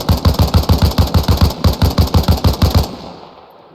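An M16 in a video game fires a fast, even burst of about fifteen loud 5.56 rounds at a helicopter, close and sharp. The shots then stop and leave a short decaying echo.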